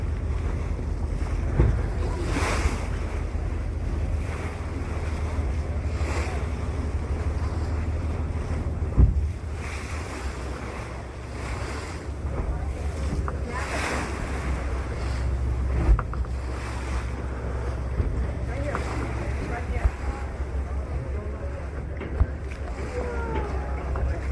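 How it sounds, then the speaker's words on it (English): A whale-watching boat runs fast over ocean waves, with continuous rushing water, hull thumps and heavy wind buffeting the microphone, loud and unbroken throughout. "I don't want to get out of the bathroom because the boat's moving so fast"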